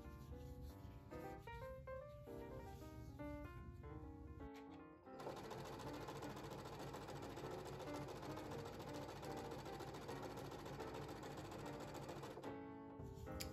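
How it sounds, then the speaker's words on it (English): Sewing machine chain-piecing quilt squares into rows, a continuous close mechanical whir and rapid needle ticking running almost unbroken with a brief pause midway. "I'm just stitching right off of my previous seam and then on"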